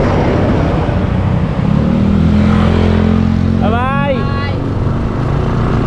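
A Jinhao motorcycle engine runs steadily close by, then revs up in a brief rising sweep, with people talking over the constant motor drone.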